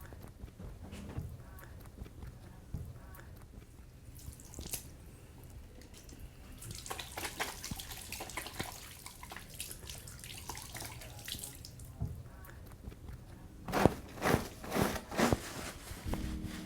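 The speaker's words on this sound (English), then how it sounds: "would you mind washing them again, please?" Tap water runs into a sink while hands are washed under it, a steady soft splashing that swells and fades, ending in louder clattering splashes.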